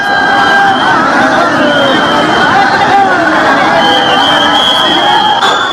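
A dense crowd of devotees throngs Kashi (Varanasi), producing a steady, loud hubbub of overlapping voices and chatter with occasional raised shouts that runs throughout without a break.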